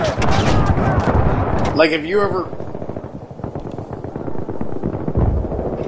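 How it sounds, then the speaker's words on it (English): Heavy blasts from a Spaz 12 shotgun firing slugs in Battlefield 3 sound loud and close among dense game effects, with a player's voice talking over the shots. "Spaz 12 with slugs"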